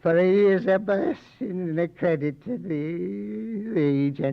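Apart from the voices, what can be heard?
No distinct noise like a dog, phone or traffic.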